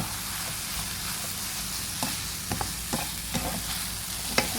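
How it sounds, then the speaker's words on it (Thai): Glass noodles stir-fried with egg and minced pork, seasoned with soy sauce, fish sauce and pepper, sizzling steadily while a spatula scrapes and taps the pan at an uneven rhythm, no talk. "แล้วก็ผัดให้เข้ากันนะคะ"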